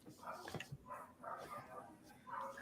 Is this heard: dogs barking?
yes